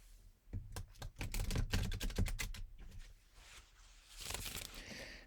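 Rapid, crisp flutters of playing cards being riffled together in quick bursts, fairly faint and close, away from the mic, followed by a softer rustle near the end.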